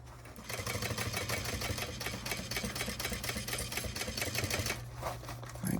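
A sewing machine stitches fabric around a zipper on a pack, with a steady, fast mechanical whirr and rapid needle clatter running throughout. No one speaks.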